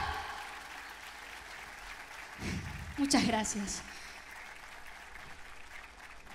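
Steady applause from an audience at a tango festival in Zárate fills the space, swelling briefly in the middle, with a voice speaking over it.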